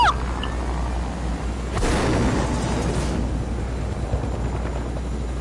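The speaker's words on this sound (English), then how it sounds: "I see the chopper." A helicopter thrums steadily under a broad rumble in a first-person shooter battle royale game, joined by a burst of explosion-like noise partway through.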